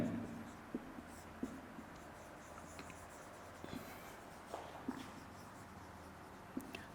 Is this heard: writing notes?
yes